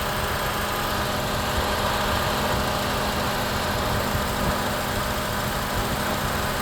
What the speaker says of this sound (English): However, the AC compressor won't cycle.